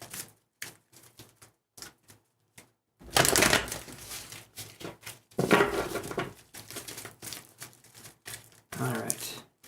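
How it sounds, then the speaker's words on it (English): Tarot cards being shuffled during a live psychic reading, heard as bursts of dry, rapid riffling and card slaps, close and fairly loud, separated by quieter stretches of faint crinkly handling. "Let me shuffle a couple more times."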